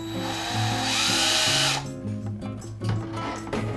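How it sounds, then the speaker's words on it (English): A power drill whirs steadily as it bores into a homemade flashlight's standoff, its loud buzzing pitch holding and then briefly shifting before the motor eases off, with short bursts following. "we're gonna take it, we're gonna drill, hopefully not through"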